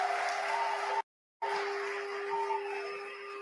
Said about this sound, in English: I would like us to give another round of applause to Eritrean president.